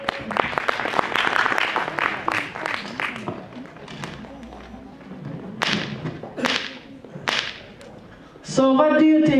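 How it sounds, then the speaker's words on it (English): A pageant audience claps for a candidate in sharp, scattered bursts that thin out into a few separate claps, followed at the end by a short tonal sound. "Please clap a hand for the candidate."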